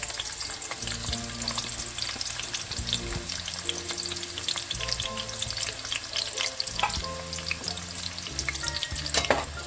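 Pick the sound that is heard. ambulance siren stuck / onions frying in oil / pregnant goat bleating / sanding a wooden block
onions frying in oil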